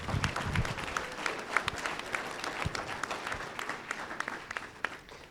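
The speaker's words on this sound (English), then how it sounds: "one more round of applause" An audience at a collegiate discussion meet final claps in a moderate, uneven round of applause, with a few sharper individual claps standing out from the crowd.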